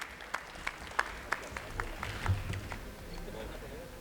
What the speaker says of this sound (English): A great round of applause for sir.